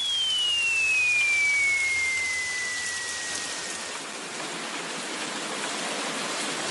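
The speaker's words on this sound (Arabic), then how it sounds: "علي الانتظار حتى يتوقف المطر عن الهطل." Rain falls in a cartoon as a steady, even hiss that stays constant throughout. A thin falling whistle tone passes faintly through the start.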